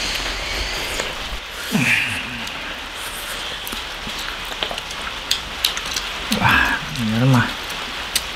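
Rain falls steadily outdoors during a meal, a constant patter with a few sharper drips. Two brief bursts of voices cut in, one early and one longer near the end.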